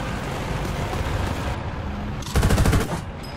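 Machine gun fire in the War Thunder video game, with a German vehicle shooting over a steady engine rumble; a short, loud rapid burst stands out near the end.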